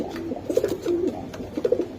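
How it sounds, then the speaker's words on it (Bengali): A pigeon coos nearby in soft, throaty bursts, two or three low rolling calls over quiet background noise. "কবুতর না ডাকলে বোঝা যায় না যে কেমন"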